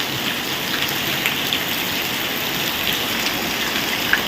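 Steady, even rain falls continuously with a dense, hissing patter and a few faint drip accents, and no voices are heard.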